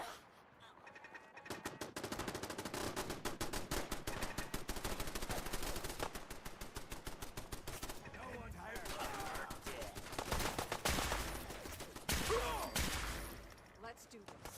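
Rapid bursts of automatic gunfire from tank bots battling raiders in Fallout 4, dense and loud with near-continuous rattling volleys and brief gaps, a few heavier blasts, and voices faintly mixed underneath.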